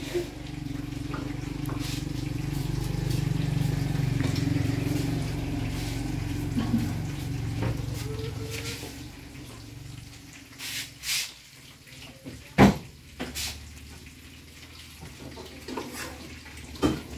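Pasta being drained of its cooking water, a steady low pouring rush for several seconds that fades into scattered clinks and drips, with voices talking quietly.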